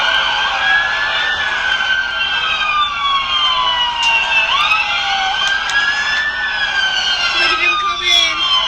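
Several sheriff's department police cars in Harlan, Kentucky arrive at a Walmart with sirens wailing, overlapping rising and falling wails sweeping continuously, loud and close, with crowd voices faintly underneath.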